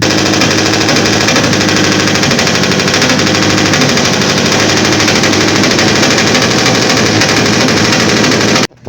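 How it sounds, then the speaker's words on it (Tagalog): A motorcycle engine is revved hard during warm-up, a loud, rapid, rattling roar that holds steady for several seconds before cutting off abruptly. "tamang warm up muna tayo para painitin ng makina ni Rab"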